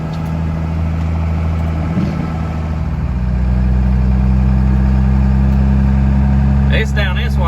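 A 12 valve Cummins diesel truck engine idles steadily with a loud low rumble on a snowy, icy winter road, and someone talks over the running engine.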